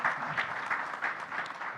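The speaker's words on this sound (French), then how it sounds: "Qu'on peut applaudir." Applause rises from the audience at a panel session on seawater desalination, a moderate, steady patter of many hands that stays continuous without talk.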